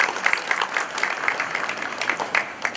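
Guests at a housing project launch applaud a man invited to the stage, a brief burst of scattered, moderately close hand claps.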